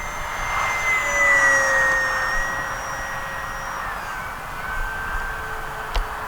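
A HobbyZone Arrows RC P-51 Mustang model plane with gear retracted makes a fast pass, its electric motor whine steady and fairly loud, rising and shifting in pitch as it flies by.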